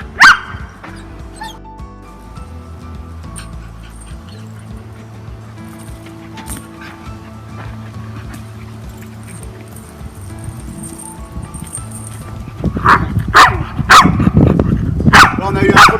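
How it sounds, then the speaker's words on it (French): A white Samoyed dog barks aggressively while resisting a leash, loud sharp barks and whimpers breaking out near the start and again in a dense, agitated burst toward the end, with someone talking underneath. "Là, on a eu un premier changement d'aboiement puisqu'il n'accepte pas la laisse."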